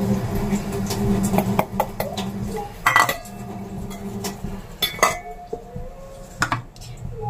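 Rice flour and spice powder mixed by hand on a metal plate for chakli snacks, busy clinking and scraping of utensils against the plate in irregular bursts, close and fairly loud, with faint talk in the background.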